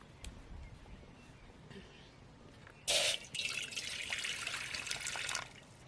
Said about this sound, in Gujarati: આપણે તપેલી મૂકી દીધી સામે પાણી નાખી દઈ